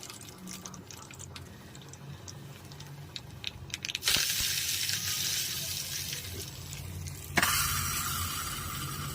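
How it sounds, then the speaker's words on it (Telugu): Spices tempered in hot oil for dal sizzle and crackle, starting soft and swelling into a loud, steady hiss near the middle that continues to the end, with a sharp burst of frying near the close. "ఇప్పుడు పప్పు కోసం అయితే పోపు పెట్టుకుంటున్నాను."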